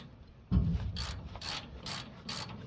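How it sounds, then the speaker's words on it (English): Ratchet tightening bolts on a Massey 780 combine, a thud followed by four evenly spaced rasping clicks as the handle swings back and forth, close and alone. "now we've just got to tighten the bolts up"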